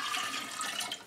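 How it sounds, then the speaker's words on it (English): Filtered water pours into a kombucha brewing jar in one short, close, steady splashing gush that tapers off at the end. "So I'm going to add the filtered water,"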